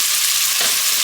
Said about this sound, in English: So this is going to saute until the vegetables are softened